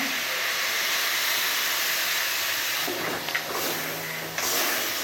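Chicken and chicken masala frying in oil for a hotel-style chicken biryani, a steady bright sizzle and hiss that briefly dips and crackles near the end, close and alone.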